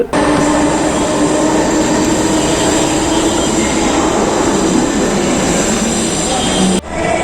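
A Delhi Metro train, India's second-oldest metro after Kolkata's, runs with a loud, steady broadband rumble and rail roar that stays constant for several seconds before cutting off abruptly near the end.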